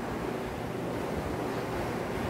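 A household ceiling fan runs on its high setting with a loose, wobbling motor, giving a steady, even whooshing rush of air that stays constant and fairly close, with no talk.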